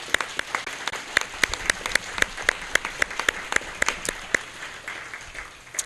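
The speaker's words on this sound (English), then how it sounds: "I think they deserve a round of applause." A small audience claps at a 2018 Montclair mayoral candidates' forum, a steady patter of individual claps with sharp distinct hand strikes, fairly close and sustained before slowly thinning out.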